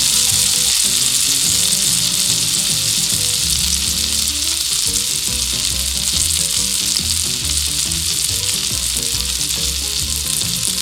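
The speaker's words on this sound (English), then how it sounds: "See how it calmed down? The sizzle's not as loud." Fresh caught tuna sizzles in butter in a hot pan, a loud, steady, close frying hiss with crackling pops and no talk.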